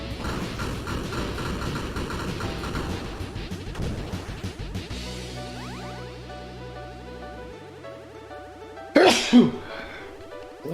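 One sharp, loud sneeze bursts out near the end, after several seconds of retro video game music and chiptune tones, with nothing else following it.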